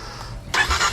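A new dual sport motorcycle with its stock exhaust fires up halfway through, jumping from near silence into a steady, fairly quiet engine running close by.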